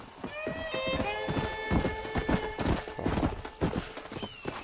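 Horse hooves clip-clop steadily in Red Dead Redemption, a rapid rhythmic run of close hoof strikes with occasional whinnies and bright tonal game sounds layered over them.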